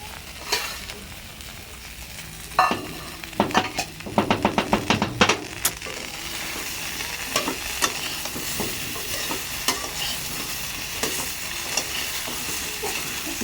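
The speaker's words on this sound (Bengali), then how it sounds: "দেখো ডাটাগুলো একটু হালকা হালকা কিন্তু ভাজা হয়ে গেছে।" Vegetable stalks fry in a pan with a steady close sizzle, while a spatula stirs them in bursts of rapid scraping and clinking scrapes against the metal.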